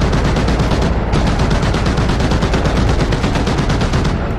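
Sustained rapid burst of M2 heavy machine gun fire from an M1097 Avenger turret in the DCS World combat simulator, loud and continuous for several seconds with only a brief dip in the rattle.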